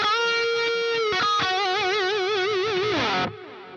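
An electric guitar plays through a ping pong delay on a Neural DSP Quad Cortex: a loud sustained note wobbles with modulation, a few echoing repeats follow, then the pitch slides down and the sound cuts to a faint tail.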